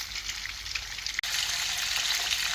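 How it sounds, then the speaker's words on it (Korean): Large anchovies sizzle steadily as they deep-fry in hot oil, a loud, close, continuous crackling hiss that cuts off for an instant midway, with no talk. "마지막으로 어, 멸치 튀김을 하고 있습니다."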